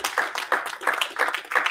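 A church congregation claps in a brisk, even rhythm, each clap sharp and close together, with no talking over it.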